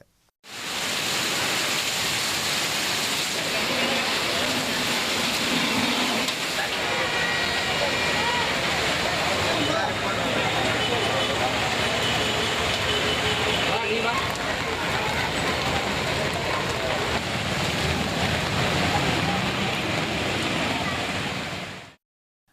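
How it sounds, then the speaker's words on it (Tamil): Heavy rain driven by strong evening wind over Cuddalore district, a steady loud broadband hiss and roar that runs unbroken for about twenty seconds. The downpour sounds close and even throughout, with no breaks. "மாலை காற்றுடன் கனமழை பெய்ததில் சாலைகளில் மழைநீர் குளம் போல தேங்கியது"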